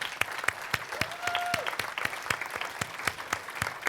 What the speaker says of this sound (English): So I would like everybody to applaud her.